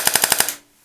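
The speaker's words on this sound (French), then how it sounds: "petit test de tir, semi. Full." A Cyma Glock 18C airsoft electric pistol fires on full auto: a short, loud, rapid burst of about six sharp mechanical shots in quick rhythm, then silence.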